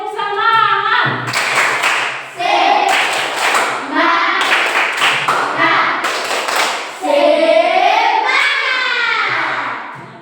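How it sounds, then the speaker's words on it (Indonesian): Classroom rhythm clapping game called tepuk semangat, with pupils clapping and tapping in bursts of patterned beats between chanted voices, loud and close throughout. "lewat ice breaking, itu judulnya tentang tepuk semangat"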